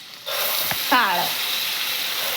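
Whole grains tipped into hot oil with cumin, mustard seeds and garlic in a pan, a sudden loud sizzle that bursts in and keeps hissing steadily, with a brief clatter as they go in.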